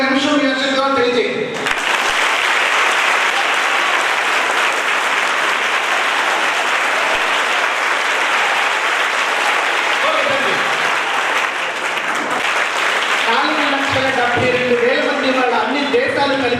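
A large audience applauding Nagaraj at a stage event honouring a world-record dance performance, with dense, sustained clapping lasting throughout and fading at the end as voices return.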